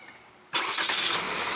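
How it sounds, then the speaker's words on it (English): The 1.5T engine of a 2018 Chevrolet Equinox, started by remote, cranks and catches after a quiet pause, then settles into a steady, close idle. "and the vehicle starts right up for you"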